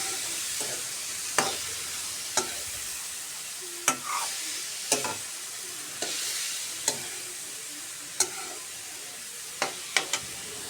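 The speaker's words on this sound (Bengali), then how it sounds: "এখন দিয়ে কিছুক্ষণ নেড়ে নেব। ভালো করে নেড়ে নেব পেঁয়াজের কলি।" Prawns and chopped onion stalks are stirred in a frying pan, a steady sizzle broken by about ten sharp spatula scrapes and clinks spaced irregularly across the pan.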